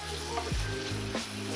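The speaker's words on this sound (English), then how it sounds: "at this stage, we're gonna add the coconut aminos right in" Sliced radishes sautéing in a pan as coconut aminos are poured in, a dense steady sizzle with a couple of brief swooping scrapes from a stirring utensil.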